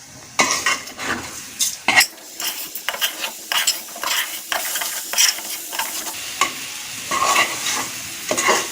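Khichuri rice mixed with beef being stirred and fried over medium heat, with a utensil repeatedly scraping and clattering against the pot in an irregular rhythm over a steady close sizzle.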